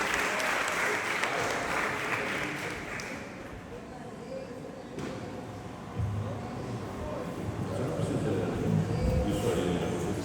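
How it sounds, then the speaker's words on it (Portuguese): Church congregation applauding during a sermon at a retreat, a broad continuous clapping wash at moderate distance, somewhat subdued, with a few stronger claps and voices rising toward the end. "A igreja aplauda o Senhor"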